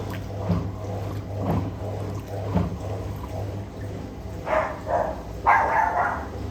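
Dogs bark a few times at a distance indoors, muffled bursts over the low hum of a Simpson EZIsensor 6kg washing machine filling for its rinse cycle.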